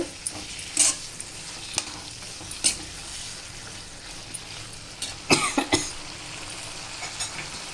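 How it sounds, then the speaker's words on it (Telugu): Ridge gourd pieces stirred into prawn curry in a pan, a soft sizzle under several distinct scrapes and clacks of a spoon, with a couple of nearby coughs. "ఈ బీరకాయ ముక్కల్ని ఈ రొయ్యల్లో వేసుకొని బాగా కలుపుకుంటామండి."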